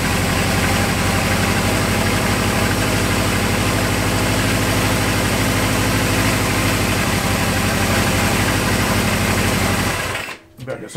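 A Kawasaki KZ650 motorcycle engine, mid carburetor float and sync work, runs at a loud, steady, rattling idle close by, then cuts out abruptly near the end.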